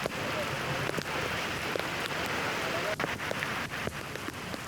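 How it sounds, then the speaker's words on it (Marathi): Heavy monsoon rain showers pour down in Khed, Maharashtra, making a continuous dense hiss of drops striking surfaces, with scattered louder splats throughout. "आता पुन्हा सरीवर सरी कोसळायला सुरुवात झाली आहे"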